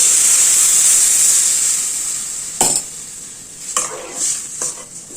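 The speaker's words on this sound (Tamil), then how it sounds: "இப்போ நம்ம கரைச்சி வச்ச புளி தண்ணியை எல்லாம் ஆட் பண்ணிடலாம்." Tamarind water poured into a sizzling pan of spices for a manathakkali vathakuzhambu, with a steady hiss of frying followed by a few sharp splashes and bursts of stirring scrapes.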